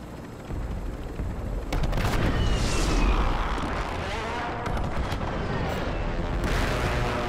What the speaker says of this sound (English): There's people shooting here.